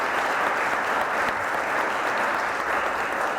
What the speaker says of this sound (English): Give themselves a great round of applause